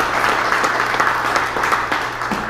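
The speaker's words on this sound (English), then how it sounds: "Give her another round of applause." An audience claps steadily at a state park's 30th anniversary celebration, a dense, even round of applause from a crowd with faint voices mixed in.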